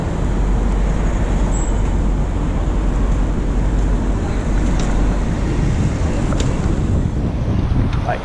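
Road traffic rumbles steadily at a city intersection, a broad continuous wash of passing vehicles heard from a moving bicycle, thick with wind noise throughout, with no one speaking.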